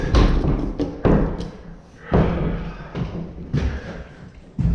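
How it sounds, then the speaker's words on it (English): A split jamb door frame is tapped down into place, a series of solid thuds spaced about a second apart, close and loud, with rough scraping between blows. "So I had to tap it down."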